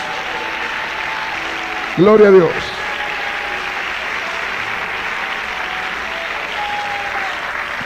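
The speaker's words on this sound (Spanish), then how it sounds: "Dale un aplauso y ahí terminamos." A short burst of church congregation applause breaks out for about half a second, loud against quieter talk, with a voice speaking before and after.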